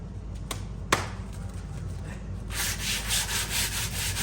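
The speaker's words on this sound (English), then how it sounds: "It's a freaking glove sander." Glove sander working over purpleheart wood during an axe build: a couple of sharp taps, then steady close rubbing that swells and fades in a regular back-and-forth rhythm.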